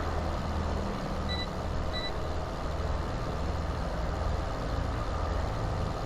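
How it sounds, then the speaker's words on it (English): A vehicle in the Farming Simulator 15 video game gives two short, clear electronic beeps about a second apart, sitting above a steady, loud engine rumble. "Wonder why it beeped at me."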